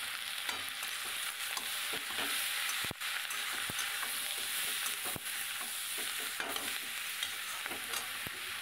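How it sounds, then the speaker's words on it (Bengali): Turmeric, cumin powder and coriander powder sizzle in hot oil while a spoon scrapes and stirs the pan, with repeated sharp clinks against the metal. "দিয়ে ভালো করে কষিয়ে নেব।"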